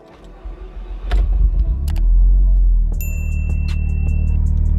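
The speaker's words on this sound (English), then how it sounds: "any excuse to hear the non-resonated Cobra Sport back exhaust" A SEAT Leon with 326 horsepower and a non-resonated Cobra Sport cat-back exhaust idles close by, a steady deep rumble after a few clunks and a rising surge, heard with no talking.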